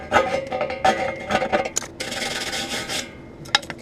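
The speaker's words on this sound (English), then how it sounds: "Get some of that slag off." Slag is scraped and brushed off a fresh steel weld with quick, irregular rasping strokes and occasional light clinks, close up with no talking.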